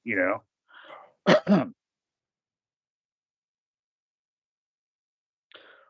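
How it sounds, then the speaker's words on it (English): A person gives a close, sharp double cough after a brief burst of voice, followed by a long silence and a faint voice near the end. "Oh no, that was just me coughing."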